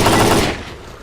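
A short, loud burst of rapid automatic gunfire from the shooter game STALKER: Clear Sky, close and dense, dropping away quickly into a fading tail.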